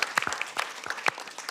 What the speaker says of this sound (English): Yeah, she deserves a round of applause.